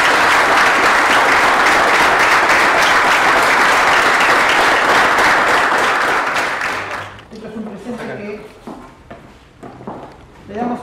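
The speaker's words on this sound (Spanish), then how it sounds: "Le damos un fuerte aplauso a ellos." A crowd at a martial arts event applauding the instructors, dense loud clapping that holds for about seven seconds before fading into scattered claps and murmurs.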